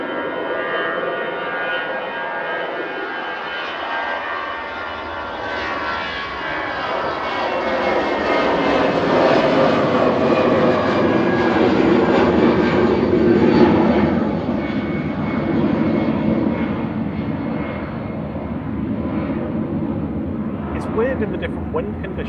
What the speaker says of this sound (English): EasyJet doing a toga to Belfast, I think, flight 707